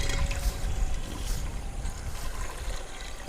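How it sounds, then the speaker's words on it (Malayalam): Milk pouring into a pot for caramel ada pradhaman payasam, a steady liquid trickle and splash running continuously at close range with no voices. "ആദ്യം നമുക്കൊരു പാലൊഴിച്ച് കൊടുക്കാം."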